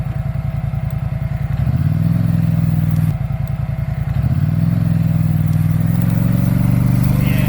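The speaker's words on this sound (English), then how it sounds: "you can hear me hit the throttle, and you could see how it hesitates before it goes forward" A 2023 ATV engine with an 850 motor, either a Can-Am Outlander or a Polaris Sportsman, chugs close by at idle. The throttle is blipped twice, and each time the engine note rises and holds in a loud, steady drone.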